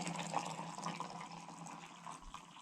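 Water is poured into a French press at an outdoor fall campsite, a faint, steady trickle and splash with no talking.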